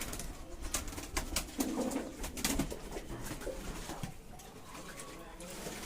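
Pet doves bathing in a pool give soft repeated coos amid splashing and wing flutters, with a person talking over them throughout.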